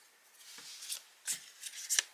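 A deck of cards is shuffled close by, with soft riffling and several sharper snaps and flicks across a couple of seconds, quiet and without any voice.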